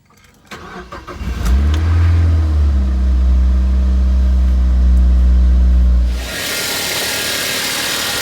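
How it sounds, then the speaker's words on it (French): A 2006 Mazda MX5 NC engine cranking briefly and then catching, surging into a loud, steady idle before the revs drop and settle, recorded close with no talking. "vous allez voir, le moteur démarre comme un charme"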